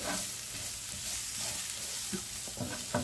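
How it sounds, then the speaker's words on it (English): Ground cumin and coriander stirred into sizzling chilli con carne in a pan, a steady frying hiss with soft scraping strokes of the spoon and a few louder knocks toward the end, no voices. "ground cumin, ground coriander. Give it a stir."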